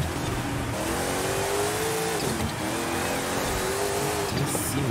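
A racing car in the Forza Horizon 5 video game revs hard and shifts gears, its engine whining steadily and loudly throughout with pitch rising and dropping at each shift.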